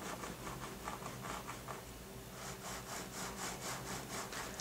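Scroll wheel of a Zowie MiCO gaming mouse turned repeatedly, giving a faint, close, rapid ratcheting tick in steady bursts over quiet room noise, with no talking.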